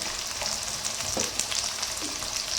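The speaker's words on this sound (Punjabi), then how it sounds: "ਪਿਆਜ਼ਾਂ ਨੂੰ ਆਪਾਂ ਭੁੰਨ ਲਈਏ ਚੰਗੀ ਤਰ੍ਹਾਂ" Onions frying in a pan for a vegetable curry, a dense continuous hiss with faint stirring knocks, close up and with no talking.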